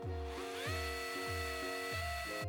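A drill fitted with a 1.5mm bit bores out small rivets on a diecast Matchbox Greyhound Coach base, repeated whirring spin-ups and spin-downs in a quick close rhythm.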